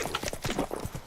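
Roach the horse trots in The Witcher 3, giving a quick, brief run of close, moderately loud clip-clop hoofbeats.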